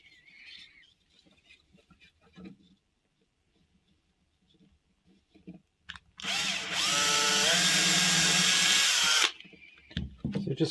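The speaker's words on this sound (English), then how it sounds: "So just counter drilling first for my tacks" A power drill counter-drills pilot holes for tacks in a wooden hand puppet, running in one loud, steady burst of about three seconds, with quiet handling clatter before and after.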